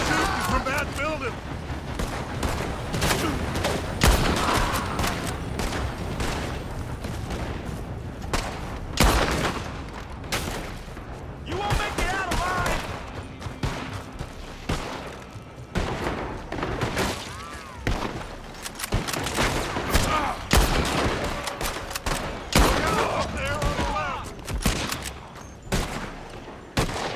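Heavy gunfight in Red Dead Redemption 2, with repeated loud shots and rapid volleys cracking close by, plus impacts and shattering, while character voices call out between bursts.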